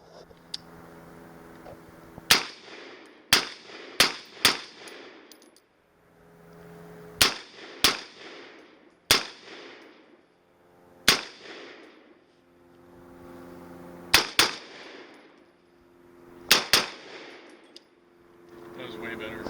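Gunshots ring out at targets in paced groups, each volley four sharp, loud cracks with short gaps, the first two bursts fired at the center targets and the next at the outer ones, each crack followed by a brief echoing decay.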